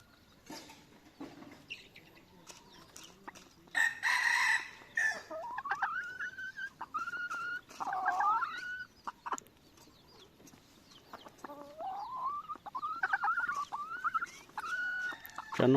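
Chickens cluck and a rooster crows in a farmyard of hybrid fowl. The bursts are scattered and irregular and rise above a quiet background, with one louder, longer crow near the middle.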